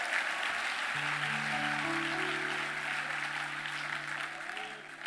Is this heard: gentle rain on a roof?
no